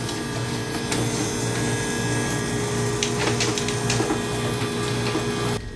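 A Hoshizaki ice flaker with a fault grinds out a steady, harsh mechanical drone with whining tones and scraping ticks, fairly loud and continuous until it stops abruptly near the end.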